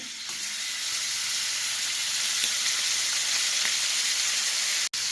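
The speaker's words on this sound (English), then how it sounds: "to the same pan, we're going to add a little more vegetable oil, the bacon," Bacon frying in vegetable oil in a pan, a loud continuous close sizzle and hiss that runs unbroken, ending with one brief sharp knock, no voices.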